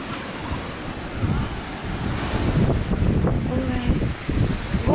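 Sea waves wash onto the Sea of Azov shore at a summer beach, a steady, fairly loud surf hiss and rumble mixed with wind buffeting the microphone. Faint beach voices sound in the background.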